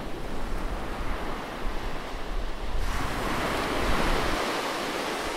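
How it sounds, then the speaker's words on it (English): Ocean waves in a video game wash in as a continuous soft rushing surf, a broad steady hiss that swells a little in the second half, with no voices. "I like the waves. That wave animation is actually pretty keen."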